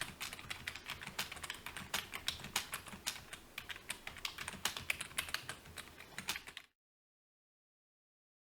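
Laptop keyboard typing during a writing session, rapid close key clicks in an irregular steady stream for several seconds before stopping abruptly into silence.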